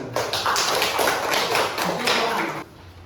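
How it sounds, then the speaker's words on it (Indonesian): Fourth-grade primary school pupils in a classroom clap together in a loud, dense burst of hand claps lasting over two seconds, then stop abruptly, leaving quiet room tone. "Oke, tepuk tangan."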